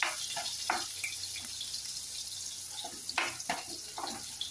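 Garlic frying in a pan for an Assamese fish dish, a steady close sizzle with scattered bursts of crackle and spatter, no voices.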